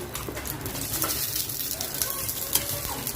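Onions frying in oil in a pan for a home-style chicken curry, a close, crackling sizzle with stirring, and a bird cooing faintly in the background.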